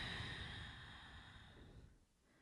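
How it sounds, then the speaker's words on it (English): Loud, long breaths, in and out through the nose or mouth, during a morning mobility flow of gentle hanging and side-to-side rocking, close and steady, fading toward the end. "Making that breath nice and loud, nice and long."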